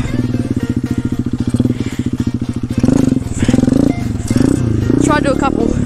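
A small pit bike engine chugs in a rapid, pulsing rhythm, then revs louder and rougher as it is ridden close by, while people speak over it.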